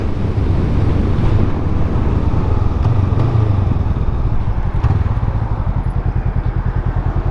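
A motorcycle out on a ride just after a coolant flush, its engine giving a steady low rumble that is half buried under loud, constant wind buffeting. No one speaks.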